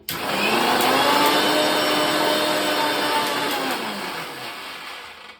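Mixer grinder blending mustard seeds with salt into a paste, a loud continuous motor whir with steady high-pitched grinding that holds for about five seconds before winding down.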